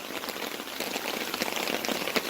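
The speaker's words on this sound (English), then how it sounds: "You can see it's about a medium downpour right now." Medium rain downpour pattering steadily on surfaces outdoors in a backyard, a soft, even hiss with scattered closer drips, fairly faint and with no talking.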